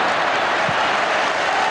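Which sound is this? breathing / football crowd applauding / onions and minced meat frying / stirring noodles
football crowd applauding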